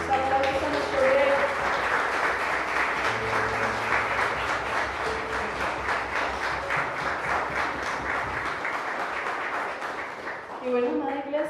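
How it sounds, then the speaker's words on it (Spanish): A church congregation applauds after a prayer, dense steady clapping filling the room for about ten seconds under faint background voices, then tapering off near the end. "Aplausos a nuestro Rey."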